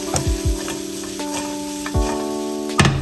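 Drained green beans stirred in a hot frying pan, with close scraping and clattering strokes of a utensil over a steady sizzle, a few distinct knocks spaced through the stir.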